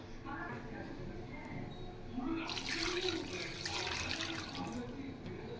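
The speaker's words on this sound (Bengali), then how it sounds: "আর একটু জল দিতে হবে" Water is poured into a pot of rohu fish curry, a rushing, splashing pour starting partway through and running for a few seconds, close and moderately loud, with a voice speaking alongside.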